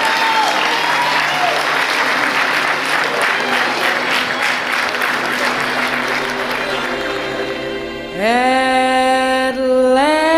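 Loud, full applause from wedding guests around the dance floor for the newlyweds, steady crowd clapping that fades as a slow love song starts up near the end.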